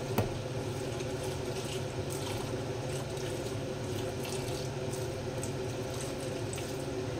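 Plain water poured into half-cooked rice: a steady, continuous splashing stream, fairly quiet and unbroken from start to finish, with a faint click at the outset.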